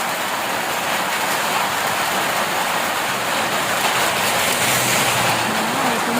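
Heavy rain pours in a dense, steady hiss with no breaks, close and loud, with a faint low rumble beneath.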